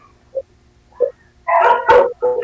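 A dog gives a couple of soft yips, then a short burst of barking, fairly close.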